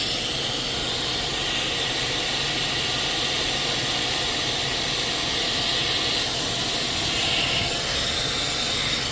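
A steady, loud hiss of escaping steam from a UWANT B400 spot cleaning machine in steam mode runs continuously with an even broadband rush, with no voices.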